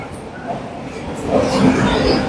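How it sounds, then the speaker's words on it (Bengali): Rumbling train noise from a Vande Bharat Express at platform 23 of Howrah station, with low mechanical hum and faint murmuring voices in the background. "23 নম্বর প্ল্যাটফর্মে বন্দে ভারত এক্সপ্রেস দিয়ে দিয়েছে।"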